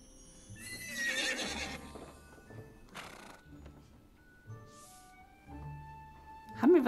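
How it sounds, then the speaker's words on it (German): Game sound effects from a Playmobil horse farm game while a horse is groomed: short whinnies and neighs with soft clip-clop and brushing thumps, set over light looping background music. "Ich striegele erstmal mein Pferd."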